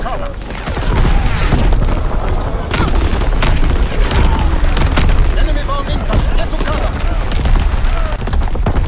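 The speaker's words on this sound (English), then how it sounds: "Artillery, get to cover! Enemy bomb incoming!" Artillery bombardment in Call of Duty WWII multiplayer: a dense barrage of heavy booming explosions and crackling blasts pounds continuously, loud and close, layered with rumbling debris and distant gunfire.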